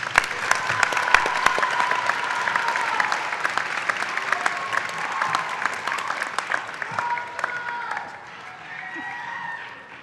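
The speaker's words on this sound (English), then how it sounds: "And one final applause for the baccalaureate candidates." An audience claps steadily for about ten seconds at a university commencement ceremony, a dense wash of applause that thins toward the end, with some voices mixed in.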